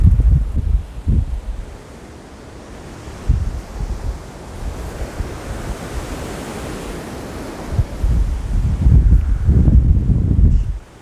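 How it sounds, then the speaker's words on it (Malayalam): Strong wind gusts buffet the microphone beside a lake in Southchurch Park, UK, where seagulls gather; a steady broadband roar swells and eases, with heavy low rumbling bursts near the start and again toward the end, and no voices. "നല്ല കാറ്റടിക്കുന്നുണ്ട്"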